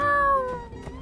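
Cat meowing in the video game My Time at Sandrock, a clear, close tonal meow with falling pitch over about a second, alone without talk.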